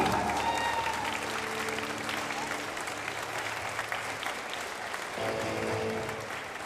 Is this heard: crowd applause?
yes